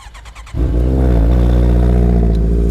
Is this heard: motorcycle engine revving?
yes